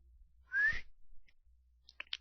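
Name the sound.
soft whistle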